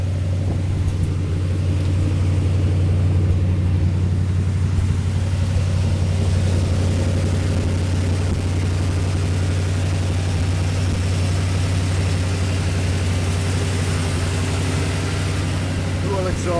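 A 1952 Ford F1 restomod pickup with a V8 and cherry bomb mufflers idles steadily, giving a loud, close, deep low rumble throughout with someone talking over it.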